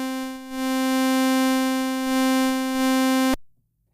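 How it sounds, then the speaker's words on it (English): Synth tone run through an X shaper asymmetric distortion that brings out even-order harmonics: a sustained, buzzy note dense with overtones, holding steady for over three seconds before cutting off abruptly into silence. "And then you have this X shaper asymmetric, which takes your A and B and then wave shapes them asymmetrically."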